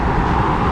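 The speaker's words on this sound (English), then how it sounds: "Oh, big truck." A big truck rolls past on a New York freeway, a loud, steady broadband roar of tyres and engine close by, with no voices over it.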